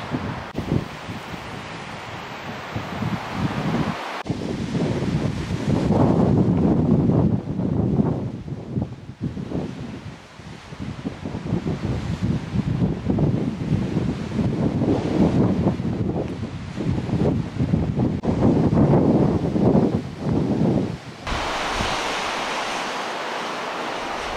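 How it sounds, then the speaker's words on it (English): Strong wind roars across a mountain slope during a splitboard tour, gusting loud and continuous with heavy buffeting on the microphone, swelling and easing in long surges. "It's hard to even think straight in that wind."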